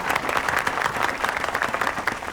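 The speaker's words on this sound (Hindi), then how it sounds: "तालियां!" A crowd bursts into dense, steady applause at a political speech in a Hindi social film, loud and close, with many hands clapping at once and no voices above it.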